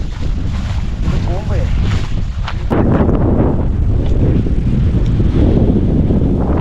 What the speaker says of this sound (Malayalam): കണ്ടോ ഭയങ്കര കാറ്റാണ് ഭയങ്കര കാറ്റും